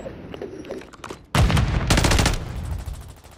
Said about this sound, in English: I got three of them shooting at me at the same time.